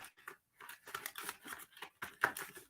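Reading cards shuffled by hand during a live psychic session, a quick run of soft, papery riffling flicks in short bursts, close and faint, with no talking.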